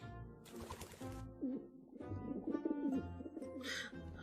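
A pigeon coos in low, throaty bursts, a few soft rolling calls close by with brief pauses between them.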